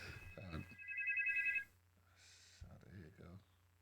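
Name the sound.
telephone ringing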